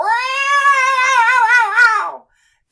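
A boy imitates a horse whinny, but the long, wavering, nasal cry comes out sounding like a cat yowling, loud and close, ending abruptly into silence.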